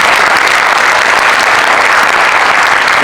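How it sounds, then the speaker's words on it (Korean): A theater audience at a film screening Q&A gives loud, dense, continuous applause for actor Jeon Jong-seo, close and steady throughout with no voices heard. "들려주신 전종석 배우님께 박수 한번"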